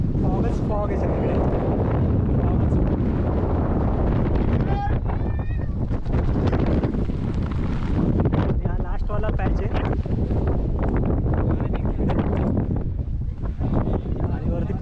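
Strong, steady wind batters the microphone on a misty monsoon trek up Irshalgad Fort, a constant roaring rumble that never lets up, with faint voices partly buried under the gusts.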